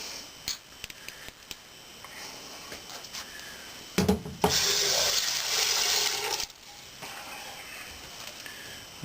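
Tap water runs for about two and a half seconds as a container coated with baking soda paste is rinsed, a steady broad hiss at moderate level between scattered clinks and handling noises, with no talk.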